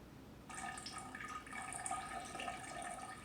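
Liquid trickles slowly into a density tower, a faint, thin pouring tone that begins after a brief pause and runs steadily to the end.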